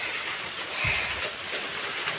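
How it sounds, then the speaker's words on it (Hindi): Heavy rain pours down during a typhoon at a hillside home, a dense steady hiss of drops hitting surfaces, loud and close throughout, with one brief low thud partway through. "बहुत तेज बारिश आ रही है"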